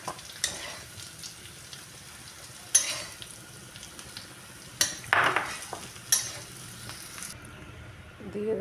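Fried potatoes are stirred and scooped from a hot pan with a metal utensil: sharp scrapes and clinks come at irregular intervals over a faint, continuous sizzle of oil.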